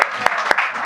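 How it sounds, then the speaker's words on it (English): A short burst of applause from the audience at a Srimad Bhagavatam installation gathering, steady clapping with a few louder individual claps. "Give them an applause."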